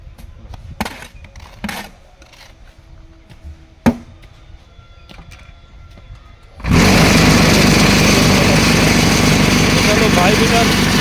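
An engine on a truck hauling a load of hollow blocks cranks and catches about two-thirds through, then runs loud and steady to the end; before that, quiet background with a few knocks and voices.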